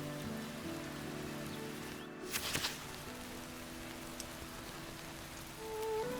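Steady rain patters across a surface in the farming game Hundred Days, a continuous even hiss with a brief sharper burst near the middle and no voices.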